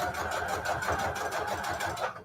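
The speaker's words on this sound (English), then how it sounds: "Just gotta learn where to keep your eye on on the sewing machine." A sewing machine stitches through bedsheet fabric notecards with a steady, close mechanical whir, running alone for the whole stretch and stopping right at the end.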